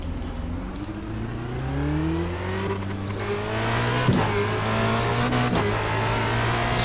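A Formula Renault 2.0 race car in a racing simulator accelerates hard, its engine pitch climbing repeatedly through quick upshifts. The engine is loud and steady, with sharp clicks at each gear change.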